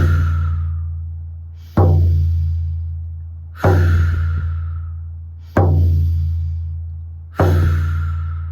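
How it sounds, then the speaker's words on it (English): Deep breaths during a guided breathing exercise, drawn in and pushed out in a steady repeating cycle about every two seconds, five full breaths, close and loud over a constant low hum. "Breathe in as much air as you can. Breathe it all out."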